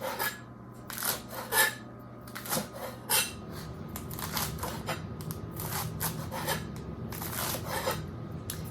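A kitchen knife slices lettuce leaves into fine chiffonade shreds for a classic Waldorf salad, giving repeated short crisp cutting strokes and scraping against a board, moderately close with no talking.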